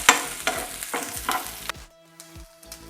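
Cashew nuts frying in a pan for instant rava idli, a run of quick stirring scrapes over a light sizzle before the pan goes quiet with a couple of faint knocks.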